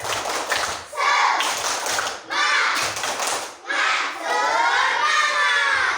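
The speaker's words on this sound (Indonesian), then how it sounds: "Coba tepuk semangat." A class of Indonesian schoolchildren performing a rhythmic clapping chant, loud bursts of shouted chanting voices alternating with rapid group claps in repeated phrases.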